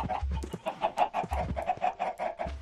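Chickens in the Minecraft video game cluck repeatedly in quick, bouncy bursts, several birds overlapping at close range with no talk.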